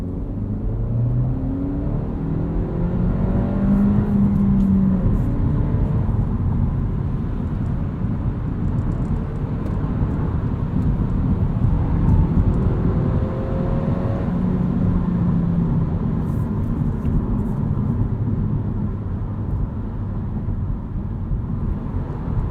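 A Honda Civic hatchback with a manual transmission drives along, its engine and road noise forming a steady close hum with gear-related pitch sweeps rising and falling throughout, no voices present.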